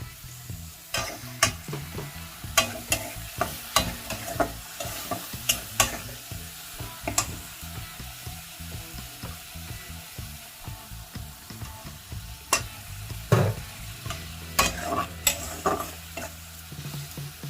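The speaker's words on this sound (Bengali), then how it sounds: "টমেটোটা নরম হয়ে গেছে। এই সময় আমি এই গোলা মশলাটা দিয়ে দিচ্ছি।" Spice paste fries with softened tomato in a pan for a Bengali green banana and potato curry, giving a steady close sizzle broken by frequent sharp scrapes and clacks of stirring, with no talking.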